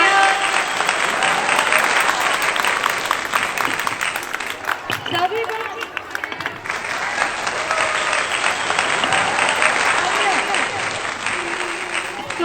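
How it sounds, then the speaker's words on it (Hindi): A school prize distribution audience claps loudly in sustained applause that dips briefly partway through and then swells again, while someone speaks over it on a microphone. "जोरदार तालियां"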